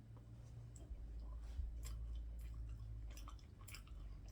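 Crunchy cocoa cereal is chewed close to the mic, giving quiet, repeated crisp crunches and bites over a low steady hum, with no talking.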